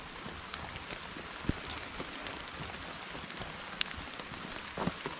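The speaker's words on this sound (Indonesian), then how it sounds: "kebetulan hari ini hujan, jadi agak lumayan hujan" Steady rain patters on surfaces around a rural village with livestock pens, a soft continuous hiss broken by occasional sharper drips.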